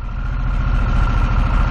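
A Harley-Davidson Sportster S V-twin motorcycle engine idles steadily and low with an even, throbbing pulse, close and constant throughout with no voices.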